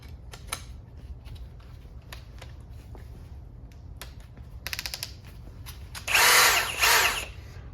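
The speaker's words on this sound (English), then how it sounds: "So let me change this and we'll go with the Diablo auger" A Milwaukee or Ridgid power drill fitted with a Diablo auger bit bores into damp dense wood, with clicks and short bursts before a loud sustained whirring grind near the end, close up.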